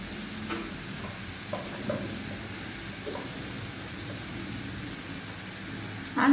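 Potato and pumpkin cooking in a pan with salt, turmeric, cumin and chili powder make a low, soft sizzle broken by a few light stirring scrapes, with a louder clatter at the very end; no one talks.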